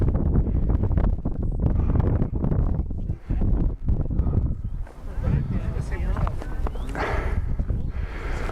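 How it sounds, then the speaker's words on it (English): Wind buffeting the microphone on a low-vegetation hillside path up Arthur's Seat in Edinburgh, heavy low rumbling gusts throughout with a lull midway, while a person talks. "Oh, that breeze is nice."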